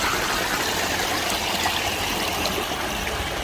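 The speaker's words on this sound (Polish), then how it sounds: "tak zrobione z tego drzewa, takie koryto do wody" Water runs steadily through a wooden trough, a continuous close splashing trickle with no pauses and no voices.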